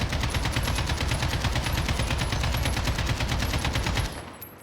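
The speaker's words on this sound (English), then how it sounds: "with the AK, it seems that the initial shots are super jumpy" An AK-47 in the Modern Warfare video game fires a sustained burst of rapid automatic shots for about four seconds, loud and close, before cutting off abruptly.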